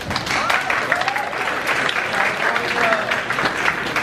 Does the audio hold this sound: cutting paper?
no